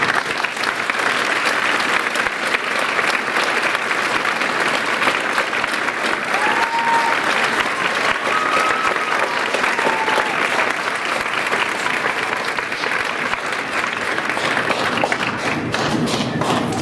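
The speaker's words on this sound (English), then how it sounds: "let's give them a round of applause, please" A large concert audience at a high school orchestra festival gives the student musicians a loud, sustained round of applause. The dense, steady clapping fills the whole stretch with no talk.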